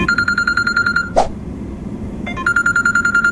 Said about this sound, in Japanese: なんか電話